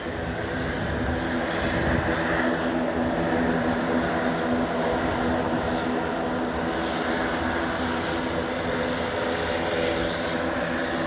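An airliner takes off at Stockholm Arlanda airport, a steady, broad engine roar that holds at a fairly even level from a moderate distance, with no speech.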